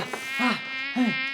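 A close, loud insect buzz in two rising and falling swells, like a bee flying near the listener, heard alone with no talking.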